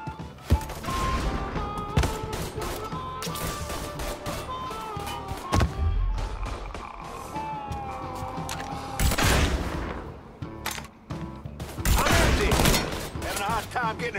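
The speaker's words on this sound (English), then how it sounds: "I'm getting a shot off like this." Rapid bursts of gunfire from the video game Mafia 3, crackling volleys and heavy booms that repeat in clusters over a dense bed of game music and effects, loud and close throughout.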